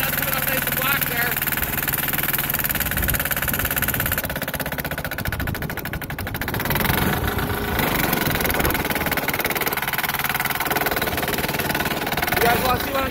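A 6HP Sears Suburban diesel tractor engine runs steadily and loudly through the whole stretch with a low rumbling chug, clearing heavy snow outdoors.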